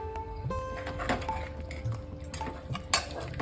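Mutton being stirred in a pressure cooker pot with salt and tomato, a metal spoon scraping and clinking against the pot in irregular strokes, close and fairly quiet.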